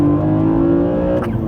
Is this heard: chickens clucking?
no